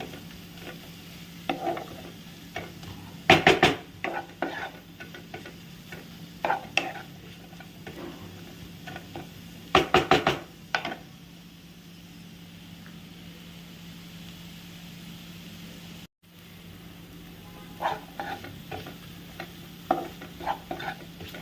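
Tomatoes and spices with Kashmiri chili powder being stirred in a pan, heard as a low steady sizzle broken by bursts of spatula scrapes and clatter against the pan, with a brief drop-out partway through.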